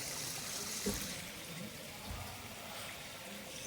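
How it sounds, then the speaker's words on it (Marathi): Water trickles and streams steadily into a tractor's welded tray being checked for leaks, a low continuous splashing with a faint background hiss and a couple of soft knocks. "आता ट्रे भरून बघणार पाणी कुठे लिकेज आहे का"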